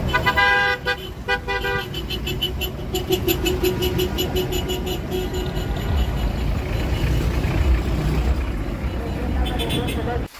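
A motorcade of traditional jeepneys of operators and drivers heading to the Bacolod City Government Center, with horns tooting in bursts over a steady rumble of engines and traffic, and voices in the mix.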